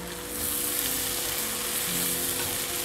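Dried fish and jackfruit seeds sautéing in a pan, a dense, continuous close sizzle with faint stirring underneath and no one speaking.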